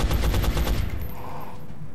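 Rapid automatic gunfire bursts from the video game XCOM Enemy Unknown, loud and dense at first and then trailing off into a fading rumble.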